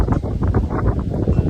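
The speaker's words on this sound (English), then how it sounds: "Despite it being really windy" Strong wind blowing outdoors, buffeting the microphone in a dense low roar with gusty pulses throughout, loud and close, no voices.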